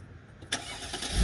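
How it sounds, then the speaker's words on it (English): A Mercedes-Benz G55 AMG V8 engine cranks and catches, then rises into a deep rumble that grows louder toward the end. "You can hear the rumble of that engine."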